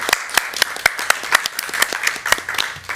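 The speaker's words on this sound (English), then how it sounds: "give a round of applause to our outgoing chair, Ara" A small group clapping for the outgoing chair at a parks and recreation board meeting, sparse distinct hand claps in an uneven rhythm, close and moderately loud, with no talking.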